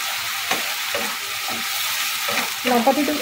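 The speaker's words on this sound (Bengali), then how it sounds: "লঙ্কা বাটাটা দিয়ে ভালো করে ভেজে নেব" Chili paste frying in a pan for Schezwan paneer over low gas, a soft steady sizzle broken by periodic spatula scrapes and a brief clatter near the end, close by with no talking.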